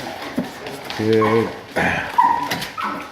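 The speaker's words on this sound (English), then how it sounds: "Good morning, puppy." An Airedale Terrier puppy whimpers in a short high, wavering whine and gives a few small yips, close by, while a person talks gently over and between the sounds.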